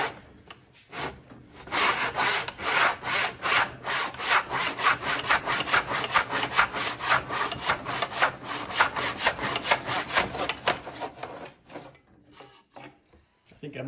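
A hand saw cuts off a wooden plug on a homemade whippet gun, with a close, steady run of rhythmic rasping back-and-forth strokes that slows and stops near the end.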